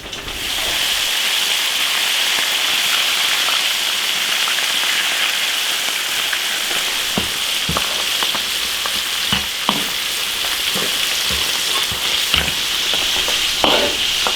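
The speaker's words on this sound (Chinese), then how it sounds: "在油锅头稍微炸一下就行了，不需要炸太久。" Beef ribs dusted in dry starch deep-fry in a wok of hot oil, giving a loud, steady sizzle from start to finish, with scattered pops and the clink of stirring toward the end.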